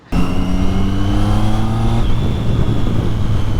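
A Triumph Street Triple 675 motorcycle fitted with an Arrow aftermarket exhaust revs loud and close, holding a steady high engine note, then drops to a rougher, lower rumble.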